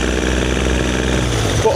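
Rebuilt Yamaha 75hp two-stroke outboard engine, uprated to 90hp, running steadily on test with a constant low droning hum and no pauses, close and loud throughout.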